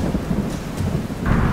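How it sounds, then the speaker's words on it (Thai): Heavy rain pours down during a storm at a water park in Thailand, with a deep rumble of thunder rolling underneath the steady roar of the downpour, loud and close throughout. "อุ้ยอะไรกันครับเนี่ยเหมือนพายุเลยอ่ะดูดิทุกคนเหมือนพายุเลยตอนนี้มันคือพายุใช่ไหม"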